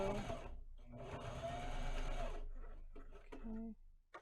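A sewing machine sews a fabric fashion mask in short bursts of whirring stitching, starting and stopping, fairly close and moderately quiet, with a voice speaking in between.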